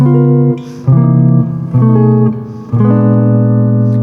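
Sustained keyboard chords with tritone substitutions played one after another, each held about a second, clear and loud with no talking.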